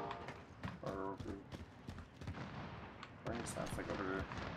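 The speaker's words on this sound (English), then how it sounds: "lots of gunshots over here" Repeated sharp gunshot cracks in Call of Duty: Modern Warfare/Warzone multiplayer, some close and some muffled and distant, go off at irregular intervals over a busy game soundscape.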